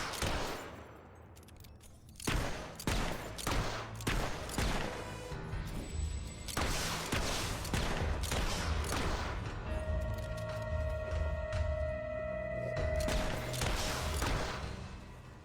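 Rapid bursts of gunfire from the video game Fable 3, a fast run of sharp, loud shots with crashes and thuds between them, and a sustained tone running through the later part.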